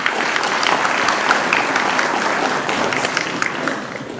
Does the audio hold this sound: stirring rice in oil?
no